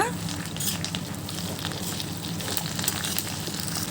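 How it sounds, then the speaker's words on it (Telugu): Curry leaves crackle and sizzle steadily in a kadai as their moisture cooks off, a dense, close, continuous frying hiss with fine popping throughout. "ఇది ఇందులో వేసుకున్న తర్వాత మనం దీన్ని తేమంతా పోయే వరకు దీన్ని మనం వేయించుకోవాలి"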